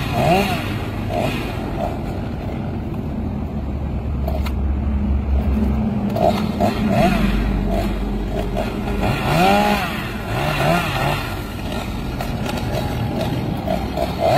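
A chainsaw engine runs close by, its pitch rising and falling as it bites into a coconut tree trunk, while someone talks over the noise.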